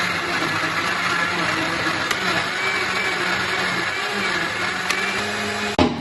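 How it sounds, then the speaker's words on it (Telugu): A mixer grinder whirs continuously while blending papaya juice, a loud steady motor drone with a brief click near the end as it switches off. "ఇంకా మిక్సీ పట్టేసుకోవడమే."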